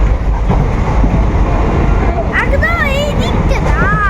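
A constant loud rumble from inside a moving passenger train nearing Kolkata carries on throughout, with people talking and some high chirping tones near the end.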